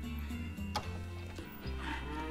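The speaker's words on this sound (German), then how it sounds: "was machen denn meine Kühe?" Cows in a crowded cowshed in the farming game Farmer's Dynasty give low, drawn-out moos that overlap into a steady bovine drone, with soft clicks and faint mechanical ticks in between.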